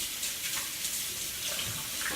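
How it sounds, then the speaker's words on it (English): Tap water runs steadily into a sink during hand washing in a home kitchen, a continuous close hiss with no voices over it. "You want to wash your hands before and after."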